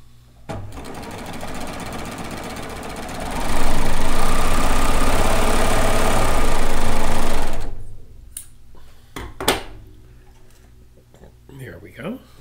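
Serger sewing machine stitching kimono robe pieces together: a steady, close mechanical whir lasting about four seconds, with a quiet voice speaking before and after the stitching.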